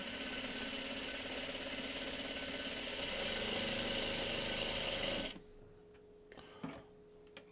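A sewing machine runs fast and steady up close for about five seconds, its motor whirring under a rapid needle tick, then stops abruptly, leaving a faint hum and a few light clicks.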